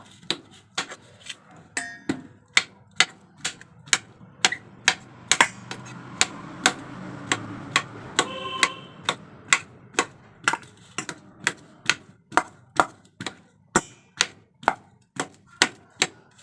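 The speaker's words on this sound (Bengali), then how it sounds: "কলাগুলো চামচের সাহায্যে কেটে নেব" Spoon chopping three peeled bananas, a steady series of sharp, evenly spaced taps against a plate or board, close and clear, about one or two per second throughout.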